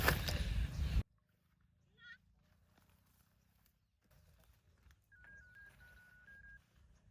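A telephone keypad sounds a few faint, brief dialing beeps and a thin held tone. They follow a loud noisy burst at the start, with quiet room hiss between them.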